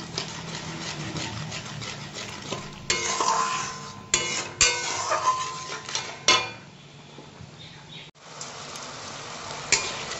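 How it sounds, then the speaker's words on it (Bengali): Spices and sour yogurt stir-fried in a pan over low heat for a rohu fish dish, with repeated scraping and rubbing strokes of a spatula against the pan under a low sizzle, in irregular bursts. "মশলাটা টক দইয়ের সাথে ভালো করে কষিয়ে নেব"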